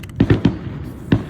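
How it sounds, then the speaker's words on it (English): Fountain fireworks go off in a quick run of three sharp pops, a pause, and then one more, all close and fairly loud against a hissing background. No one speaks. "fountain fireworks."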